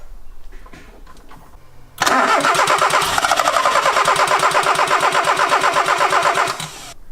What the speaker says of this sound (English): Got battery back in, so we're going to see if we can turn it over.